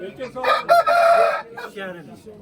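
A rooster crows loudly and close by at a chicken market in Özgön, one long drawn-out call followed by a shorter trailing crow, with faint market chatter in the background.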